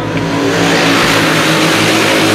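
Amateur stock cars roar past at a dirt track, a loud, dense, continuous engine drone with revving that fills everything, no voices audible.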